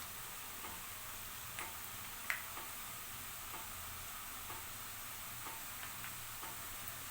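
Banana slices half-fry in oil with a faint, even sizzle, broken by a few light ticks and clicks, heard alone and without any talk.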